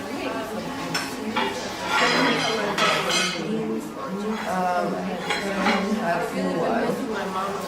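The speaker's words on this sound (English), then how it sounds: "all the clinking and clacking of all the ceramics I have here" Handmade ceramic plates clink and clack against each other in repeated bright knocks, close by, with a person talking softly underneath.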